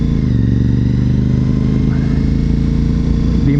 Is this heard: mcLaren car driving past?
yes